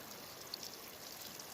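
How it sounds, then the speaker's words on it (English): Water trickles from a small freshwater spring along a river hiking trail, a faint, even, hissing babble with no other sounds over it. "Nice little freshwater spring there."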